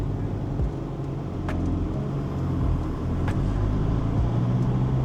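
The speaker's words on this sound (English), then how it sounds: "So what I'm going to do here is I'm going to take off in second. I'm just testing this clutch out a bit." A used car pulls away in second gear during a clutch test, giving a steady, close engine drone and rumble that builds slightly, with faint clicks and no talking.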